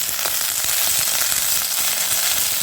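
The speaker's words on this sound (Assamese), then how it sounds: "আৰু এই পাতকেইটা এতিয়া অলপ ভাজি লৈছোঁ।" Tender pumpkin leaves fry in mustard oil, an even, close crackling sizzle with small pops and occasional stirring scrapes throughout.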